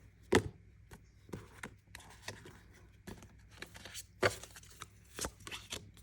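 Soft oracle card sounds come in short bursts, with shuffling riffles and sharper slaps as the deck is handled and cut close up.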